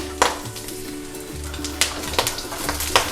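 Garlic and chillies frying in a hot pan give a steady close sizzle, broken by sharp scraping clicks as the pan is stirred, with no talk.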